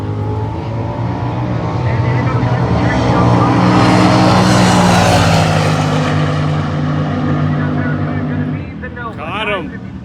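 A 1969 Plymouth Barracuda drag racing down the strip at a hot rod reunion, a loud engine roar swelling and then fading over ten seconds, with a brief squeal near the end.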